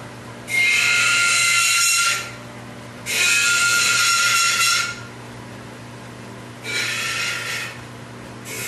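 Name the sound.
sharpening a woodturning tool on a sharpener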